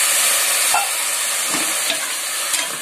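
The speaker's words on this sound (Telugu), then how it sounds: "కాసేపు అయితే నూనె పైకి తేలే వరకు దీన్ని అయితే కొంచెం ఫ్రై అయితే చేసుకుందాం" Chicken curry with curd just added frying in hot oil, a steady loud sizzle with a few scraping stirs of a spatula through the pan and no voices.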